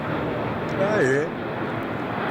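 A Qatar Airways jet in oneworld livery departs Melbourne Airport with a steady, distant engine roar, and a brief whistling tone rises over the roar partway through.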